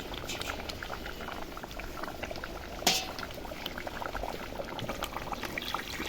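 Water poured into a pot of mutton being braised with spices, with a steady close bubbling and seething throughout and one brief splash near the middle.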